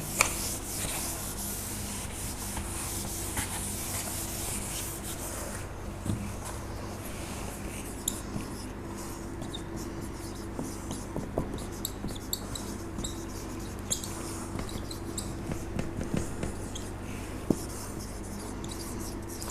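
Writing an example on a board, with faint scratchy strokes and light taps over a low steady background hum, no voices.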